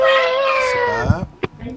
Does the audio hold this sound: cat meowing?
yes